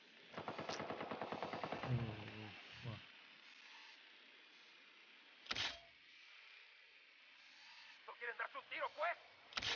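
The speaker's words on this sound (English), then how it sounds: "We got a mounted weapon." A mounted machine gun in the video game Ghost Recon Wildlands fires one rapid, loud burst, followed by a couple of sharp single shots and a short stuttering volley near the end.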